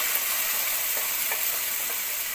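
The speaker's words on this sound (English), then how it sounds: "So now I'm going to add in the sauce to the seasoning fried up." Sauce poured onto fried seasoning in a hot pan while cooking brown stew fish, a loud, steady close sizzle and frying hiss with faint stirring scrapes, no voices.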